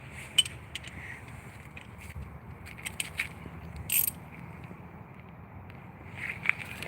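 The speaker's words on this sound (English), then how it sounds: "So we can just use the other wrench." Wrench working on a brake bolt of a 1997 Subaru Outback during a brake pad change, a faint series of short metallic clicks and taps spread over several seconds against quiet background hum.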